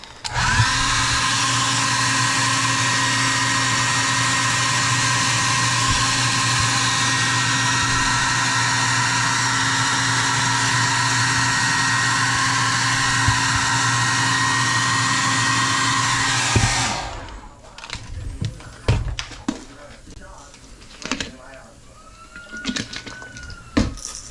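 A heat tool blows hot air to heat set, a loud, steady whirring hiss with a constant pitch that runs unbroken for about sixteen seconds and then switches off, leaving faint handling clatter.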